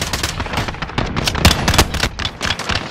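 Dense, rapid gunfire from a Modern Warfare battle, with overlapping automatic bursts and sharp single shots cracking close and loud for the full stretch.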